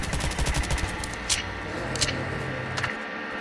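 Rapid gunfire from a zombie shooter video game crackles in short bursts over a steady game background, with a few sharper shots standing out near the end.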